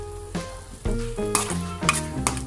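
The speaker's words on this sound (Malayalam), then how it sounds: "ഇതിൻ്റെ പച്ചമണം മാറുന്നത് വരെ ഫ്രൈ ചെയ്തെടുക്കാം" Chili sauce and Kashmiri chili powder fry in a pan for Indo-Chinese dragon chicken, a soft steady sizzle broken by a few scraping stirs of the spoon, close and without speech.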